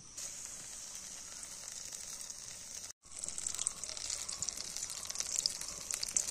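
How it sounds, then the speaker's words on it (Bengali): Leche frita pieces frying in hot oil give a steady, bright sizzle that stops briefly, then returns livelier and crackling as more pieces go in. "এভাবে আমি সবগুলো আস্তে আস্তে ভেজে নেব"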